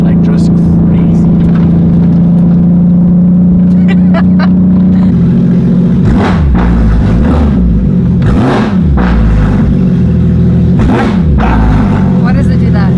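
A straight-piped Porsche 911 GT3RS holds a loud, steady droning engine note, then snaps through several sharp, aggressive revs with crackling rises and falls, very close and raw.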